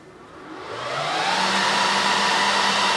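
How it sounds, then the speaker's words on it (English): Cooling fans of a home server spinning up with the cabinet open, a loud broadband whoosh that builds over the first second and then holds steady. "So the fans have started because it's all powered on."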